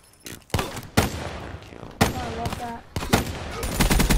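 Rapid gunfire bursts from a Black Ops 3 gun game match, loud sharp volleys repeating every second or so with dense automatic fire near the end, over game effects and some faint voice.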